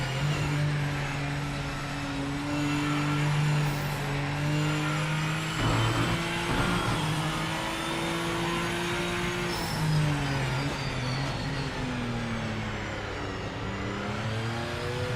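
BMW race car engine in the Project Motor Racing video game, a loud sustained engine drone shifting pitch through gear changes as it accelerates, with other cars roaring nearby.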